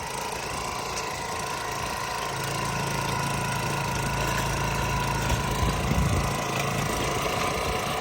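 The gasoline engine of a soil tiller for vegetable beds runs steadily nearby with a low, rough chug and mechanical clatter, its pitch holding constant throughout.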